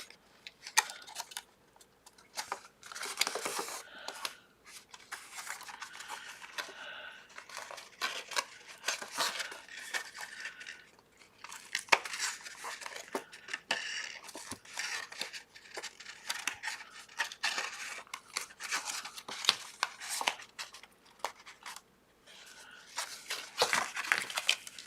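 Cardstock being folded and pressed along score lines, giving a long run of soft crinkles, taps and sharp creasing clicks, close and fairly quiet, with no talking.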